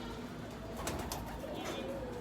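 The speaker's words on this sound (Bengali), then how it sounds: "এই যে আমার কবুতরের ঘর। ওই দিকে অন্ধকার, এর জন্য দেখা যাইতেছে না।" Pigeons cooing inside a dim pigeon house, soft low calls repeating over steady background noise, with a couple of brief louder rustles that may be wing movement.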